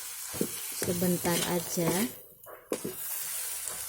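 Genjer (yellow velvetleaf) is stir-fried in a pan, giving a continuous close sizzle with scraping stirs while someone talks briefly over the cooking.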